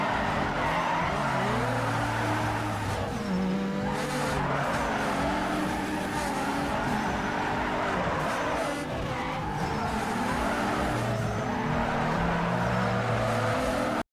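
Racing cars in Need for Speed Underground 2 roar continuously at close range, engines rising and falling while tires squeal and skid through corners, with no talking.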